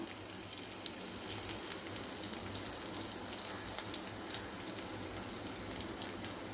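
Shallots, garlic, fenugreek, mustard seeds, urad dal and cumin sautéing in hot oil, a steady close sizzle with fine crackling pops throughout.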